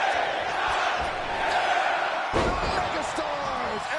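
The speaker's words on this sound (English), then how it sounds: "giving this crowd plenty of reasons to get loud." A wrestling arena crowd in the video game WWE 2K25 roars in a steady, loud wash of cheering, with a sharp slam-like thud partway through and an announcer's voice layered over the noise.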